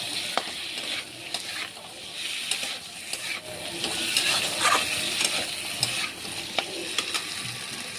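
Crushed ginger, turmeric powder and salt sauté in a pan with potatoes, giving a soft continuous sizzle broken by repeated scraping stirs of a spatula against the metal.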